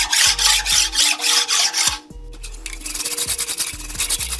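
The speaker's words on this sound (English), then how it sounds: "all I'm doing is I'm bringing back the factory lines and removing the gasket material" A hand tool scrubs old gasket material off the deck surface of an engine block in steady back-and-forth rasping strokes, close and fairly loud, with a brief pause midway before a quicker, lighter run of strokes.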